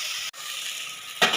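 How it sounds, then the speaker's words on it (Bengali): Poppy seed paste ground with green chillies bubbles in a pan over fried tomato and onion, a steady close sizzle broken by a brief gap, then a louder burst of spattering near the end. "আমার পোস্তটা ফুটে উঠেছে।"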